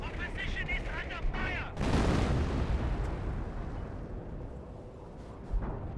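Artillery barrage in the video game Company of Heroes 1: a loud rumbling blast erupts after a stretch of battle noise, followed by a lingering low roar and scattered distant bangs, with game voice chatter early on.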